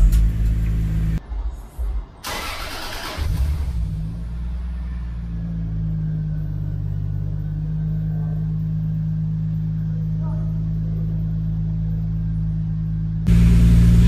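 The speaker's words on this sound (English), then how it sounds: "So, the exhaust note right here." Lexus GS300 with a single-turbo 2JZ-GTE VVTi engine, standalone ECU and manual gearbox, makes a deep, steady exhaust rumble at idle, with a brief blip early on and a louder surge at the very end.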